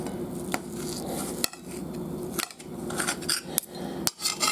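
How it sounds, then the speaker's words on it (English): Cooked steak being cut into small pieces on a plate or board, with a few sharp clicks and scrapes of the knife standing out over a steady low background, close and fairly quiet. "I'll be cutting it into little pieces"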